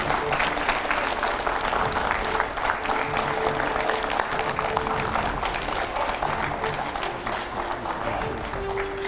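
A TV9 studio audience applauds steadily and loudly as film personality Ashoke Pandit is welcomed in, a dense, continuous clapping with no break.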